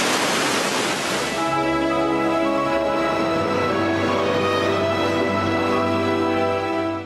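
The Swat river runs turbulent after heavy rain, making a continuous broad roar of rushing water. It stays loud and unbroken throughout, and a steady tonal hum joins it after the opening seconds.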